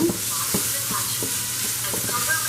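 Garlic, onions and ginger sauté over high heat, giving a steady close sizzle broken by soft stirring scrapes at an irregular rhythm.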